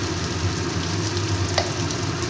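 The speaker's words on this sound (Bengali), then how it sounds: "দিয়ে মশলাটাকে আমি ভালো করে কষিয়ে নেব" Ground spices with salt, turmeric, coriander and cumin powder sizzle steadily in oil in a pan for an egg curry, a continuous close frying hiss with faint stirring scrapes and no talk.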